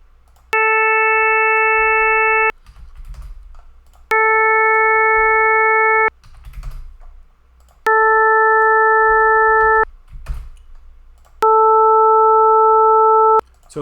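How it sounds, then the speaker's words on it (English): Synthesized steady tone played in four separate bursts of about two seconds each, with upper harmonics stripped away one step at a time so each burst sounds thinner and purer, separated by quiet gaps with faint background rustle. "let me dial back 1 harmonic at a time and we'll hear the difference"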